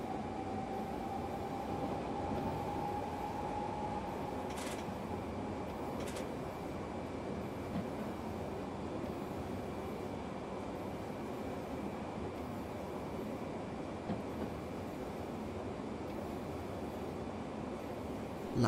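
A DB class 420 S-Bahn electric multiple unit in Train Simulator 2018 runs steadily on the S3 line to München Hbf, giving a continuous rolling rumble with a faint whine and two brief clanks partway through, heard alone without speech.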